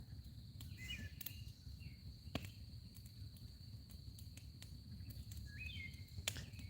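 Crickets chirp faintly in a quiet outdoor night as a steady high trill, with occasional sharp bird-like chirps and soft rustles over a low rumble of background noise.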